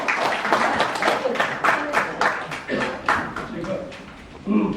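An audience applauds to welcome a lecturer, a former head of Korea's Government Information Agency, at a public lecture in Daejeon; steady mid-level clapping runs throughout, with voices talking over it.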